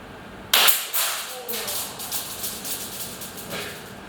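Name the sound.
Showguns custom airsoft 20mm shotgun shell being fired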